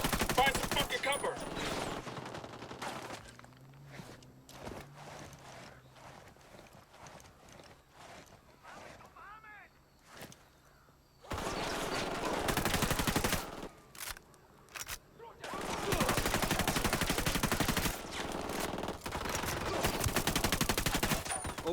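Bursts of gunfire in the video game Ghost Recon Wildlands, loud sustained automatic volleys in the second half following quieter scattered shots and background game sound.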